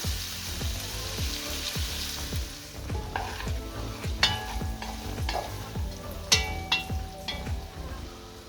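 Carrots, onion and garlic sizzle gently in a pan over low heat for a bean and sausage stew, a continuous crackling bed with a series of close scraping stirs and a few sharper clinks of the spoon.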